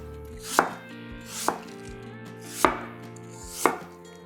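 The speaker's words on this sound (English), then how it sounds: "hold your knife at an angle and just cut to remove the core" A knife cuts through apple flesh on a cutting board, coring and slicing in four crisp, separate chops spaced about a second apart, close and clear with steady background hum and no talk.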